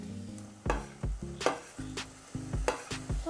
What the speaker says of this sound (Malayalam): നമുക്കിതിലേക്ക് പച്ചമുളകും വെളുത്തുള്ളി ഇഞ്ചി ചതച്ചതൊക്കെ ഇട്ട് കൊടുക്കാം.